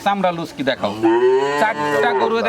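A Holstein Friesian heifer around six months old, at a cattle market, gives several loud, close moos in quick succession, the last one long and drawn out, with possible faint voices in the background.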